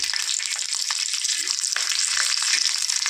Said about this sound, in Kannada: ನೋಡಿ, ಮೆಣಸಿನ್ಕಾಯಿನ ಹಾಕ್ಕೊತೀನಿ. ಸಿಡಿಯುತ್ತೆ ಮೆಣಸಿನ್ಕಾಯಿ, ಹುಷಾರಾಗಿ ನೋಡಿಕೊಂಡು ನಿಧಾನಕ್ಕೆ ಮಾಡ್ಕೋಬೇಕು